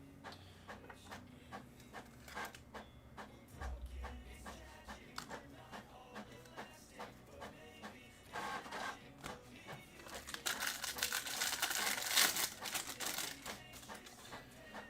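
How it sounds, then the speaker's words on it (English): A printer runs in the background of a sports trading card case break, giving a steady mechanical churn with repeated clicks and feed bursts that swell louder near the end. "Now we got printer in the background."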